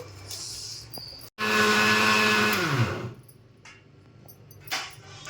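A mixer grinder runs loud and steady for about two seconds grinding soaked wet rice into flour for pongadalu, a traditional jaggery-sesame sweet, then winds down as the motor stops, with quieter handling noises before and after.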